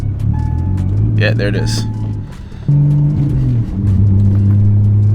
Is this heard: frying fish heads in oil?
no